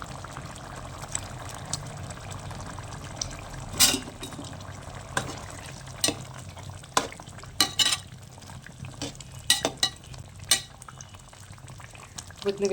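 Fish is dropped into a pot of boiling tamarind water for river-fish curry. A steady low bubbling runs under scattered sharp splashes and clinks at close range.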